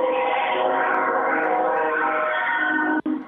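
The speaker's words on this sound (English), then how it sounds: "I'm at work and I'm right by the train." Train passing right beside a workplace, heard as a loud, steady, close rumble and rolling roar through a phone line, with a brief dropout near the end.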